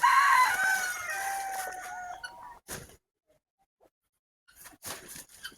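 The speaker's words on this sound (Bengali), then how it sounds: "এখানে আমরা সব শৌখিন মুরগির বাচ্চাগুলো দিয়ে দিব" Fancy chickens in a poultry shed cluck and a rooster crows loudly near the start, then the birds fall mostly quiet before a few scattered clucks return.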